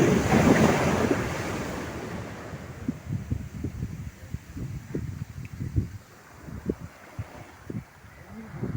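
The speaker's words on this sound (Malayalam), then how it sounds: "ഇവിടുന്ന് തിരുമല വരുന്നത് കാണാം നല്ല സൗണ്ട് കേട്ടോ" Ocean surf at Chavakkad beach, a loud wave crashing and washing in at the start, then gusty wind buffeting the microphone with scattered thumps as the water recedes, no voices.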